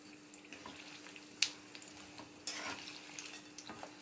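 Fenugreek, cumin, urad and chana dal, peanuts and cashews dry-roasting in a pan, giving a quiet steady crackle with a few sharp scraping clicks from stirring, no voices.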